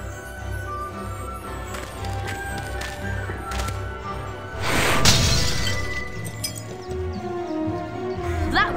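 Glass jar shattering in the Harry Potter and the Chamber of Secrets video game: one loud, bright crash breaks out midway over a steady bed of game music and ambience.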